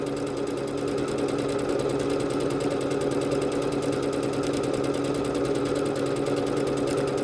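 Bernette B-77 sewing machine running a decorative stitch on fabric, a fast, even mechanical chatter of the needle repeating steadily at close range without pause.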